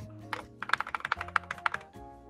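Quick run of clicky keystrokes on a computer keyboard during a Roblox voice chat session, about a dozen close, crisp taps in an uneven burst over faint background hum.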